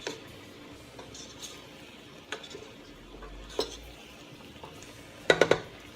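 Vegan pasta ingredients being stirred together in a pot, with quiet, sparse clinks of a utensil against the pot and a brief louder rattle of clatter near the end.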